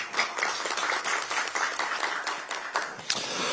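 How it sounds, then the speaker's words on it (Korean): Audience applause at a Korean political party event, a broad wash of many hands clapping steadily for several seconds, fairly close and dense, with no voices over it. "박수 한번 보내주시기 바랍니다"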